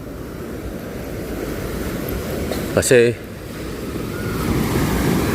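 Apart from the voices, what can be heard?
big ocean waves crashing on shore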